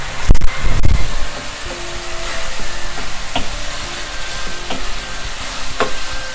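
Pork belly stir-fried with shrimp paste and Italian basil in a hot pan: loud clattering spatula strikes at first, then a strong continuous sizzle with scattered scraping taps, no voices.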